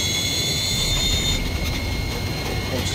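Steady broadband roar of an airplane jet engine in the video game Dead Island 2, continuous and fairly loud, with faint high tonal whines fading partway through; no talking.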